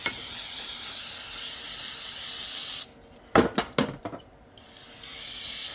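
Brake cleaner sprays from an aerosol can in a loud steady hiss, then cuts off, followed by a few short clatters and bursts before a fainter hiss resumes, during a transmission valve body teardown.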